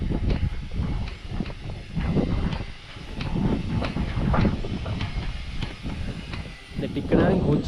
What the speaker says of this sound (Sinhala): ටිකටකින් කෝච්චියක් ගියා මේ